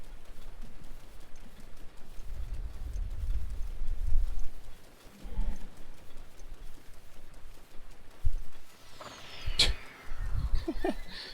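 Horse hooves clip-clop in the video game The Legend of Zelda: Breath of the Wild: irregular low, dull thuds in short bursts with brief gaps, moderately loud against a soft background hiss.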